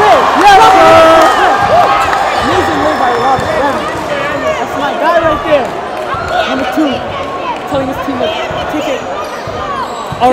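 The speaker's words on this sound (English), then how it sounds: "the crowd is going crazy right now" A crowd at a high school basketball exhibition game cheers loudly after a made basket, with whoops and shouting that fade over about ten seconds, sneaker and ball sounds underneath and talk mixed in.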